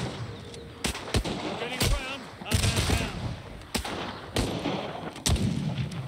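Gunfire in the Partisans 1941 video game: sharp loud shots and short bursts at irregular intervals, some heavy booming blasts among them, with game voices chattering in between.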